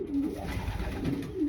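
A racing pigeon worth over $2,000 in a loft, low throaty cooing in a continuous rolling call, close and fairly clear with faint background noise.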